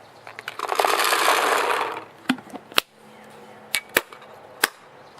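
AGD Automag RT paintball marker shooting Marbleizer paintballs in semi-auto outdoors: a whooshing rush followed by four or five sharp, separate pops spaced irregularly, fairly close.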